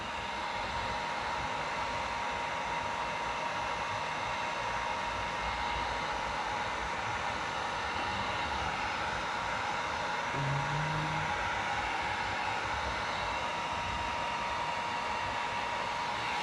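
A heat gun blows a steady, even hiss of hot air while warming tint film on a Dodge Charger side marker, continuous and close with no talk.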